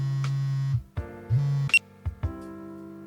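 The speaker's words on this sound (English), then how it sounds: "Then my phone vibrated in my pocket." A phone vibrating in a pocket in the video game Collar X Malice: two sustained low electronic buzzes separated by short gaps, followed by brief clicks and a fainter tone.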